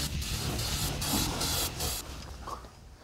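Duplicolor zinc primer sprays from an aerosol can onto a steel patch under a truck cab, a steady close hiss in a few bursts that lasts about two seconds and then fades.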